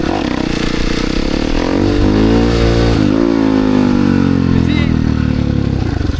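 A supermoto dirt bike engine revs loud and close, rising and holding high as the clutch is released for a wheelie, a rider talking over the roar.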